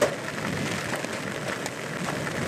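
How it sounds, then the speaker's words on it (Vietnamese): Heavy rain pours steadily on the outskirts of Saigon in Nhà Bè, a dense continuous hiss with gusting wind rushing through it, loud and unbroken with no talking. "Mưa khá là lớn ha."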